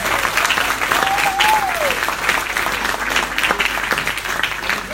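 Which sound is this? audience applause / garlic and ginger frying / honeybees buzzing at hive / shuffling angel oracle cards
audience applause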